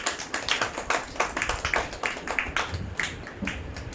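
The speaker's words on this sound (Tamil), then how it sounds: "கைத்தட்டி ஆண்டவர் மகிமைப்படுத்தலாமா?" A church congregation claps together in steady, rhythmic unison during a Tamil Christian sermon, the claps close and fairly loud with no talk over them.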